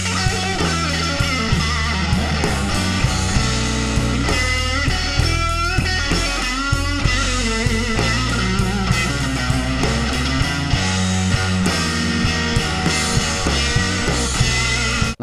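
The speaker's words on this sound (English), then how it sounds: "when you add a bit of overdrive to this guitar, the sweetness really is accentuated" Electric guitar played with a bit of overdrive in a blues style, loud and continuous, with sustained bends, busy licks and steady chordal backing throughout.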